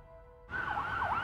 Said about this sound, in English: Police sirens could be heard in the distance as emergency vehicles sped to whatever was happening on the other side of town.